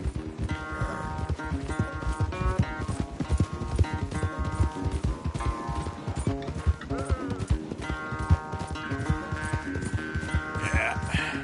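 Horses gallop in a race in the video game Red Dead Redemption 2, a fast, continuous clip-clop of hooves beneath game music.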